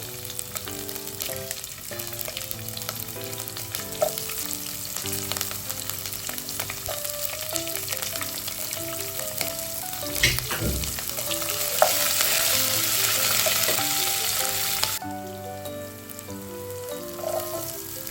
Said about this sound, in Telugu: 1/2 టీ స్పూన్ జీలకర్ర వేసుకోవాలి, కొద్దిగా కరివేపాకు, పచ్చిమిర్చి